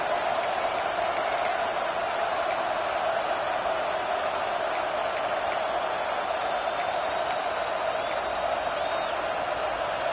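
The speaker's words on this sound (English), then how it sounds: "This crowd ready to make its presence known." Stadium crowd noise from a Madden football video game, a steady broad roar of a large crowd holding at a constant level for the whole stretch, with occasional faint whistles or shouts poking through.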